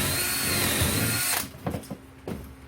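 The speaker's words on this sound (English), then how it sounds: "Let me go ahead and drill that one out." A power drill bores out a fastener in the end board of a bus, whining loudly for over a second, then stopping into a few short bursts and bumps.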